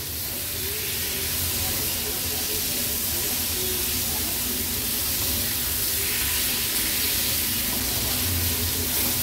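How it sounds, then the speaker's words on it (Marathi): Prawns tossed into masala on a hot tawa over a medium gas flame give off a steady, broad sizzle and hiss that runs unbroken throughout, with faint kitchen movement beneath it. "गॅसची फ्लेम मीडियम ठेवूनच हे प्रॉन्स ह्या मसाल्यांमध्ये छान आपल्याला मिक्स करून घ्यायचे आहेत"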